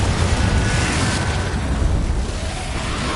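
A loud, broad blast of the Confringo fire spell detonates in the video game Hogwarts Legacy, a dense roaring burst that rumbles on for a few seconds amid combat noise, with no voices.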